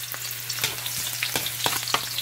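Ginger sizzles in hot oil in a pan, a steady frying hiss broken by a few soft stirring clinks, close and fairly quiet, with no talking.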